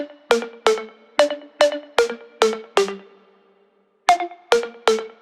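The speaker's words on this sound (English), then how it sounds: "An original sample for that sound is actually just a really simple 808 conga." A simple 808 conga sample drenched in chorus plays a lead line of short, pitched, percussive hits in a quick bouncing rhythm, briefly pausing before resuming, clear and alone.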